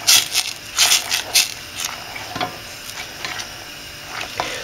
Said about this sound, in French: je vais remélanger un peu